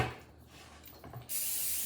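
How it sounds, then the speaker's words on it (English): A short burst of cooking spray hisses steadily into a 9x13 casserole dish after some quiet handling noises. "I'm gonna spray."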